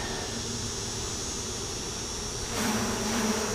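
Honey bees buzzing around an opened hive being condensed against hive beetles, a continuous close drone with a slight swell near the end, no talking.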